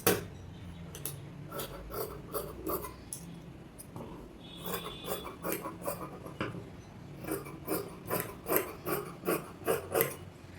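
Scissors cut through fabric for an umbrella frock, producing close, rhythmic crunching snips in steady repeated strokes that grow more regular and pronounced toward the end.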